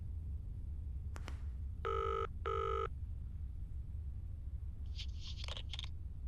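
A telephone rings in the horror game Zoochosis: two clear electronic ring bursts in quick succession after a brief click, over low steady hum, followed by faint rustling clicks.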